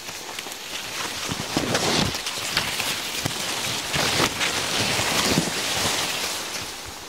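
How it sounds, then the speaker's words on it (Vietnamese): Wind gusts through a field of corn plants outdoors, making a steady, loud rushing roar with rustling swells and buffeting against the microphone. No speech is heard. "Nhiều, gió thổi."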